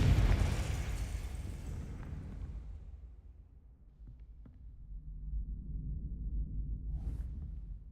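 A Confringo fire spell bursts in a Hogwarts video game with a heavy, booming blast that rolls off and fades into a low rumble, leaving a faint hiss and a small flicker near the end.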